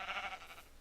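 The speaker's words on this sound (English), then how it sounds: "He's a green sheep." A green sheep in Minecraft gives a single short, faint bleat, a wavering nasal cry that fades out in under a second.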